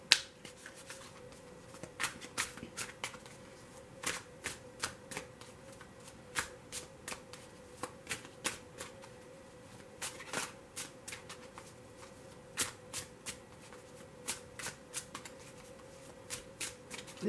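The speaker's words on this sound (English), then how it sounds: "This is the deck I'm about to deal is my Hermetic Tarot." Hermetic Tarot cards being shuffled again and again, a steady run of crisp riffles and soft taps with short pauses, close and fairly quiet, no talking.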